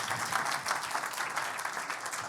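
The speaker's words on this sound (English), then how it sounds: "Big applause." Audience applause at a health tech startup pitch event, a brief burst of many hands clapping with a quick, busy rhythm, moderately loud and steady.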